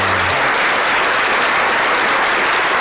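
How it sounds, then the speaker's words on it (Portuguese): Audience applause greeting a tattoo artist being welcomed on stage, a dense, even wash of clapping that stays loud and constant throughout with no voices on top. "Aplauso!"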